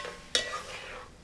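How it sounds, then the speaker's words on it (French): A spoon stirs tomato and sausage rougail in a pot: one sharp scrape, then a soft sizzle that fades away. "Bien mélanger, couvrir."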